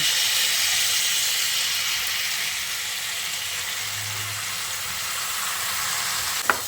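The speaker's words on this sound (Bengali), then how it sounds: "এবার আমি এখানে মুসুর ডালটা দিয়ে দিচ্ছি।" Red lentils (masoor dal) frying with potato and onion in a pan give a constant close hiss and sizzle with a sharp clink near the end.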